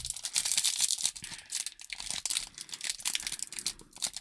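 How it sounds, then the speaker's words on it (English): Foil trading card packs from a new-release Panini Capstone box being torn open by hand, giving repeated crinkling, crunching rips in bursts, close and fairly loud. "I am not good at opening packs."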